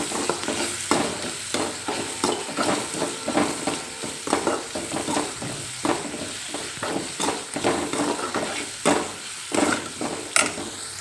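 Onion frying with turmeric in a pan while being stirred, a continuous close sizzle broken by frequent scraping and clattering strokes of a spoon against the pan, loud and steady throughout.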